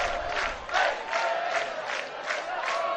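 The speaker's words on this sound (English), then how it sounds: "Crowd up the left field line, particularly really getting into it." Baseball fans along the left field line roar and chant in rhythmic swells, a sustained, distant crowd cheer pulsing in waves during a bases-loaded inning at a game in Curaçao.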